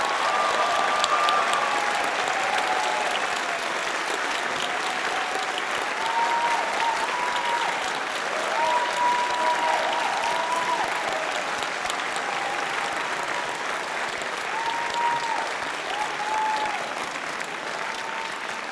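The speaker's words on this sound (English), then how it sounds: "would everyone please join me in applauding our graduating students?" Sustained applause from a large audience at a commencement ceremony honoring graduating students, steady and dense for the whole stretch with crowd noise underneath.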